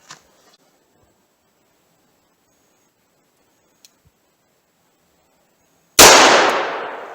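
One loud, sharp .357 Magnum shot fired with Critical Defense ammunition cracks close by after several seconds of near silence, then rings and decays quickly. A few faint clicks come before it.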